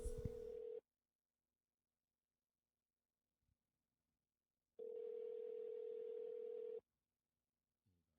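An outgoing phone call rings back in the earpiece: a steady electronic tone sounds for a moment, gives way to near silence for about four seconds, then returns for roughly two seconds before stopping again.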